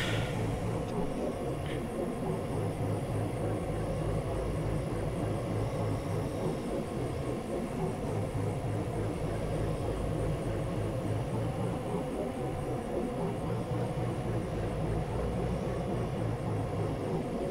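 An aircraft flies in the video game Saints Row The Third, a steady engine drone holding for the whole stretch at a constant level with no breaks and no talk over it.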